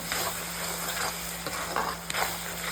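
Tomato, onion and chicken gravy with chicken masala fries in a pan while being stirred, producing a continuous sizzle with repeated short scraping strokes close by.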